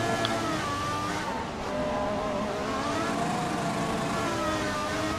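Formula One car in F1 2014 at Suzuka, engine screaming steadily as the rear wheels spin under acceleration, continuous high revving tone with no break.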